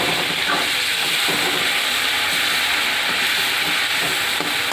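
Prawns frying lightly in hot oil make a loud, dense, continuous hiss and sizzle close up, steady throughout with faint stirring underneath and no speech.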